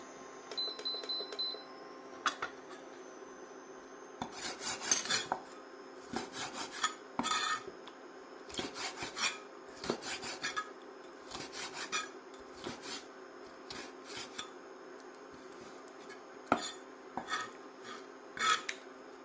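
A knife cuts cuttlefish on a board in a home kitchen, with repeated short scraping and tapping strokes in irregular bursts, fairly close and moderately quiet, with no talk.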